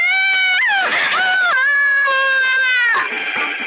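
A story sound effect of friends screaming loudly in fright: several drawn-out, high, wavering shrieks, close and intense, with a short break partway through before a final cry.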